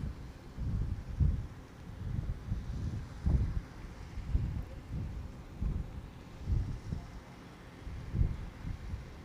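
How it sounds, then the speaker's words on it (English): Wind buffeting a microphone outdoors on a footgolf course in Acapulco, a low rumbling roar that swells in gusts every second or so, steady and close throughout. "Because the wind can keep this moving."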